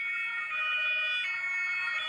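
An ambulance siren wails with a steady, loud, close two-tone warble that holds throughout, with no other sounds.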